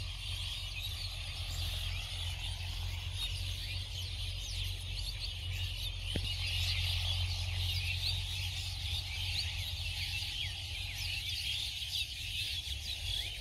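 Turkeys gobble and call repeatedly at a moderate distance in a rural village, fairly faint against a steady outdoor background.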